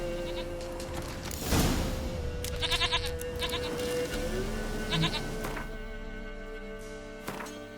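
A goat in The Witcher 3 video game lets out a clear, wavering bleat, then gives a few shorter calls over steady in-game ambience.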